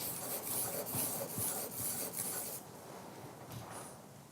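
Steel cabinet scraper worked against a sharpening stone to turn the burr back, a steady rhythmic rasping rub of about seven strokes, close and fairly quiet, with softer scuffs after and no talk.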